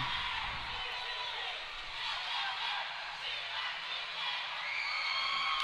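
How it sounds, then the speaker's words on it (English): Ice hockey arena crowd erupting after a Chile goal in a Latam Cup game against Puerto Rico, a dense roar of cheering and whooping voices with rising chant-like calls, sustained and loud throughout. "As the crowd erupts and does the chilly chant"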